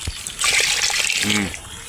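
Water poured from a container into a cooking pot holding ginger, a brief close trickling splash lasting about a second, with a voice speaking briefly over it.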